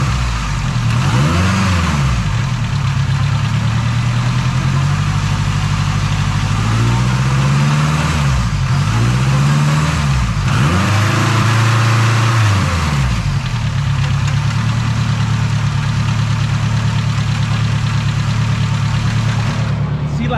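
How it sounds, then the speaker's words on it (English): A turbocharged K20 engine in an EF sedan idles with a low rumble and is revved up several times while in gear, pitch swooping up and back down in repeated surges. "with it in gear while I'm revving it up"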